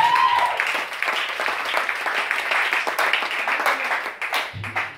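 Applause and clapping rise from a congregation at a Sunday church service acclaiming the Lord, a steady, dense wash of hands that runs loud throughout with brief dips near the end.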